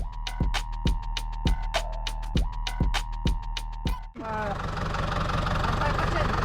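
A diesel engine idles with a steady rhythmic knock, then a louder, rougher engine roar takes over near the end.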